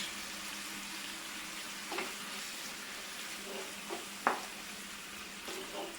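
Okra in a coconut curry cooking in a pan for a Kerala sadya, a soft steady sizzle and bubbling with a few faint clinks and stirring sounds, quiet and close.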